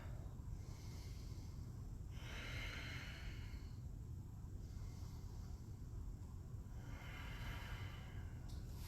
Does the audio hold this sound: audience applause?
no